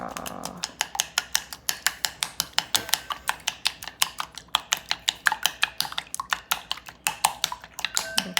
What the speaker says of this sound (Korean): 저어주세요